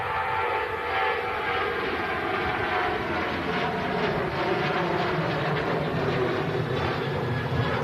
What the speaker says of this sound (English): early rotation from the Ryanair